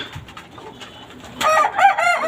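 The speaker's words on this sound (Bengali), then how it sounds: "এই যে কবুতর লোক দুষ্টামি করতেছে" Pigeons at a pigeon farm: faint rustling at first, then a burst of loud, close bird calls filling the second half of the clip.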